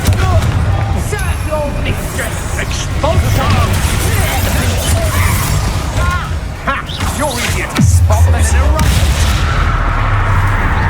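A Confringo spell explosion in Hogwarts Legacy goes off in a loud, booming burst, with a sharp blast near the end, layered over busy game effects and a voice talking.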